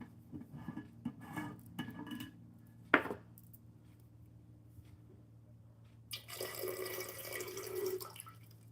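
Water poured into a container during a water ceremony: a few faint drips and clinks early on, one sharp knock, then a soft trickling pour toward the end, quiet and close.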